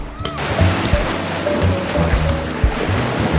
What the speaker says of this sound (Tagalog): Smooth ng tubig dito, hindi malakas ang alon.